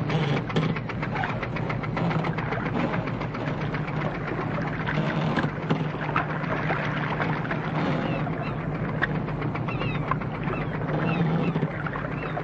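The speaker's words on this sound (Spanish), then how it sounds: "Vale, motores." Boat engines run in a steady, loud, close drone with a rough, knocking pulse underneath, holding constant throughout with no breaks, aboard a vessel in a wartime spy film.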